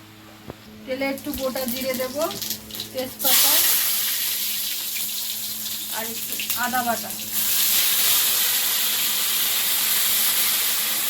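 Oil heats in a wok for ghugni, giving off a loud, steady hiss that surges in twice, with a voice talking in the quieter gaps between.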